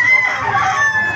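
A single rooster crow rings out close and clear at the Bocaue market, a short sustained call over low crowd murmur.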